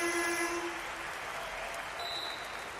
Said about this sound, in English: And the bench applauds together there with Carl Tamayo.